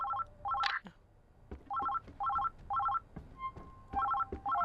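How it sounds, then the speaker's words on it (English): A phone in the video game Oxenfree II rings in repeated short electronic bursts, a steady warbling pattern with brief gaps, interrupted by a few thuds and clicks. "phone ringing?"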